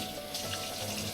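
Tap water runs steadily as someone washes their face at a sink, a soft continuous splashing hiss filling the short stretch without any talk.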